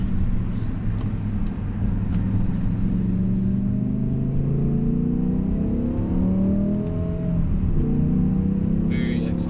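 A 2009 BMW M6 V10 engine drones from inside the moving car, its pitch climbing smoothly as it accelerates, over road rumble and light wind noise.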